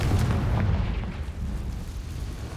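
A Confringo spell explosion in Hogwarts Legacy bursts as a deep, rumbling boom up front, then fades into a low, lingering roll.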